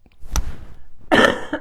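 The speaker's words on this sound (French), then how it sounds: "Un instant, je vais tousser." Two close coughs, a short one followed by a louder, harsher one about a second later.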